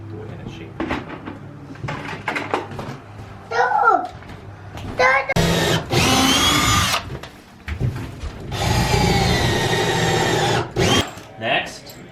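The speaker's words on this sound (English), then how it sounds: "Just drill it into the supports on the side" A power drill whirs into wooden shed supports in two loud bursts, a shorter one then a longer one, with someone talking and tool clatter in between.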